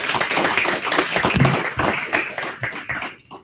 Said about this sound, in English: Can I have a round of applause for all our candidates here today?